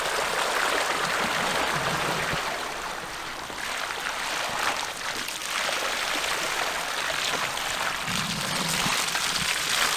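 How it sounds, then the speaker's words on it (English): A UBCO 2X2 two-wheel-drive electric bike rides slowly through a puddle of surface water, giving a continuous loud splashing and churning rush that swells and eases over several seconds, with no voices. "I reckon we can do the whole puddle."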